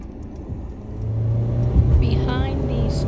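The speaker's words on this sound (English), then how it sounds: "I'm driving, so I can't slow down." A car driving along a rural road past harvested, browning cornfields, its steady mid-range engine rumble and road noise running continuously from near, with a slight swell partway through.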